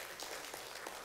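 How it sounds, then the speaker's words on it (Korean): Audience applause in a church Bible class, a short burst of many hands clapping at moderate distance, steady and uninterrupted, with no voices over it. "박수라도 한번 쳐주시죠."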